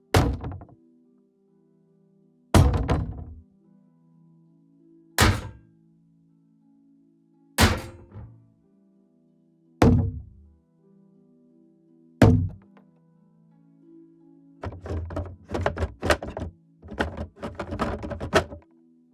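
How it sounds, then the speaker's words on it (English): Melee shield impacts on wooden and metal shields: six evenly spaced heavy, resonant thuds with ringing tails, followed by a rapid cluster of rattling hits, close and isolated. "Here you will find wooden shield, metal shield, hybrid shield and some rattling."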